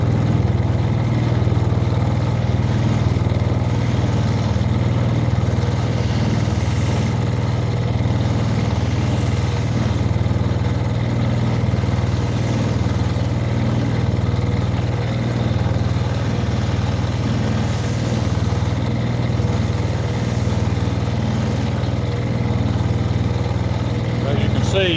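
Scotch-Brite abrasive wheel lightly grazing and softening the edges of a knife blade, a steady loud grinding whir with constant motor hum that runs unbroken throughout.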